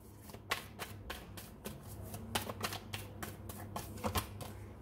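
Tarot cards are shuffled by hand in a fast, regular run of crisp riffling snaps and slaps, close and fairly loud, continuing steadily through the whole stretch without speech.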